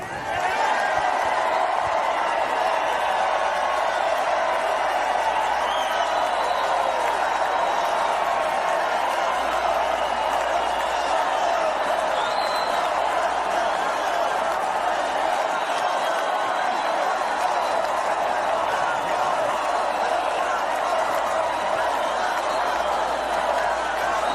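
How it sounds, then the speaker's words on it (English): A convention crowd giving Peter Navarro a standing ovation: a dense, continuous roar of cheering and applause that holds steady and loud throughout, with no single voice standing out. "He got like a standing ovation from the crowd."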